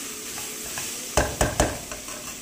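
Ginger garlic paste fries in a pan for a tomato moringa curry, giving a steady close sizzle broken by three sharp stirring scrapes near the middle, then softer scraping.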